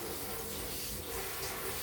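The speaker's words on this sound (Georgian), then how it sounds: "ასეთი ცივი წყლით გავავლებ კიდე და მორჩა" Steady running tap water splashing close by, a continuous hiss with no pauses and no voices.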